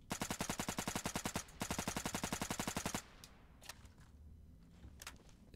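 Rapid automatic gunfire from a free-to-play FPS, Burst The Game, loud and close in two sustained bursts with a brief gap, then fading to quieter ambient noise with a few scattered sharp clicks.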